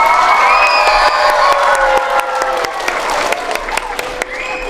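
Audience at a school playback performance event for grades 1–4 claps and cheers loudly throughout, with steady dense applause, shouts and whoops mixed in, some children's voices audible.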